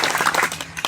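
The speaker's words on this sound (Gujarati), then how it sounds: "એ વગેરે ટીમને પણ આપણે તાળીઓથી વધાવી લઈશું" Brief burst of audience applause at a Koli community gathering in Gujarat, a dense, steady patter of many hands clapping together that lasts under a second.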